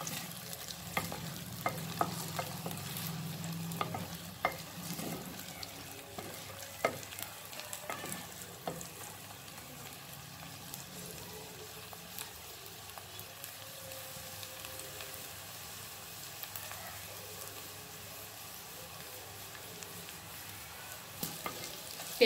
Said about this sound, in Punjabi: ਥੋੜ੍ਹਾ ਜਿਹਾ ਪਿਆਜ਼ ਨੂੰ ਬਸ ਆਪਾਂ ਹੋਰ ਭੁੰਨਣਾ ਆ